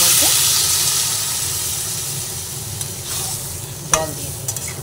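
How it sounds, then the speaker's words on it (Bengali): Vegetables stirred while frying in a pan give a steady hiss and sizzle, with occasional scrapes and clinks of the utensil near the end, close and moderately loud. "এরপর আবার সব সবজিগুলোকে নাড়াচাড়া করে নিই।"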